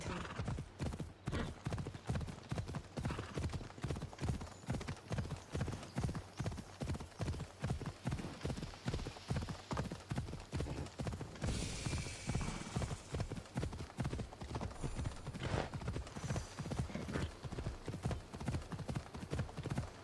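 Horse hooves galloping at a steady, rapid clip-clop in Assassin's Creed Odyssey, loud and continuous over about twenty seconds, with a brief whinny and some game noise in the middle.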